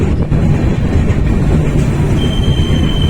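A passenger train rolls along the line toward New Mal Junction with a close, steady rumble of wheels and carriage, and a thin metallic wheel squeal rises in the last second.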